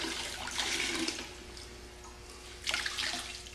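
Water splashes and rushes in two bursts while an aluminum aircraft wing is rinsed with a bucket of clean water and a rag, close by, with quieter dripping in between.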